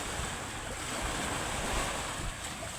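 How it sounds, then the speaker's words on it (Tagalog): Sea waves and strong monsoon wind at a seaweed farm on an island, a steady loud wash of surf and gusting wind noise across the microphone, continuous with no voices. "malalaki pa yung alon guys, malakas pa yung amihan."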